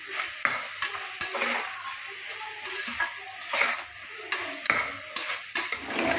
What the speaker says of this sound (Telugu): ఇప్పుడు ఫ్రై చేస్తున్నామండి బాగా.